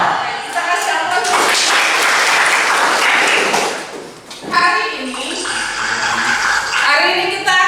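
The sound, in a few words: audience applause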